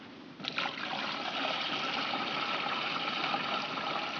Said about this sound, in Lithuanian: Pilame mūsų skystį.